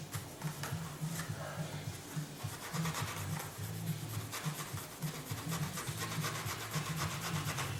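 A magic eraser rubbing sticker residue off a Nintendo game cartridge, a close, steady run of quick scrubbing strokes in a fairly even rhythm.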